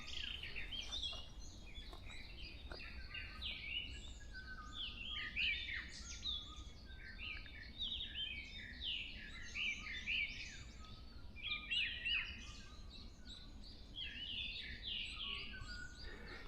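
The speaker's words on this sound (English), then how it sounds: "I can hear quite a lot of birds now in the distance." Korean birds sing in the distance in Bongseosan forest, with many bright chirps and trills repeating across the stretch over a soft, steady background hush.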